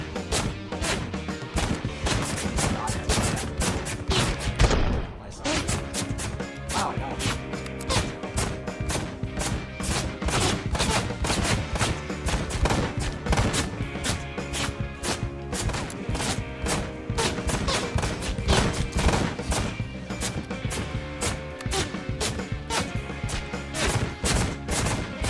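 Enemy gunfire in the video game Ride to Hell Retribution rattles almost nonstop in dense, loud volleys with heavy impacts and crashes, pausing only briefly before resuming.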